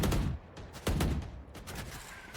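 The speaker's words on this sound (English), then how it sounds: "I feel like I hear gunshots ringing through the desert air." Gunfire crackles across a desert map in a competitive video game match, a few sharp bursts in quick succession, fairly loud, then fading into quieter scattered shots with no talk.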